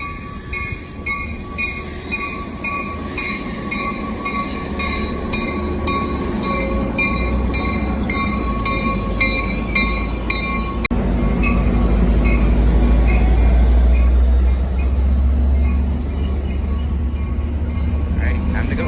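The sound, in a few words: northbound express train passing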